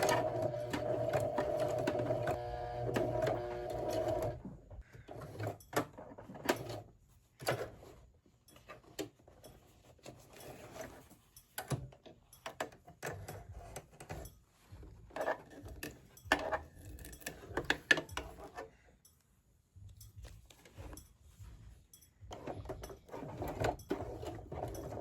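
A hand-cranked sewing machine stitches slowly through many thick fabric layers of a corset-style top, giving soft irregular ticking and clunking needle strokes with small metallic rattles, close and fairly quiet, no talk.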